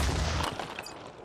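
A single loud pistol shot in the video game Phoenix Point, with a heavy low thump, followed by a quick decaying rumble, close and alone.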